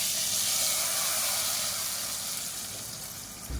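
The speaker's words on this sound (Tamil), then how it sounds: "இந்த தாளிப்பு வந்து நம்ம அப்படியே கொட்டிடலாம்." Hot tempering poured over onions into green gram sambar, giving a loud, steady sizzling hiss up close that slowly fades over a few seconds, with no voices.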